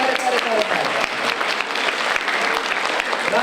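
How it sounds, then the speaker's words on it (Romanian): Audience applause following Christmas carol singing at a 2016 Christmas festival, dense steady clapping from a crowd with some voices mixed in, loud and continuous throughout. "dacă v-a plăcut cântarea, aplaudăm tare, tare, tare"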